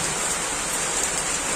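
Steady rain falls outside a house, a constant close hiss of drops on surfaces with no talking.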